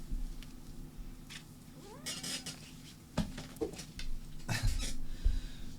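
Cat making brief meows and vocal sounds amid scattered clatter of dishes and cutlery nearby, with a quiet background hum.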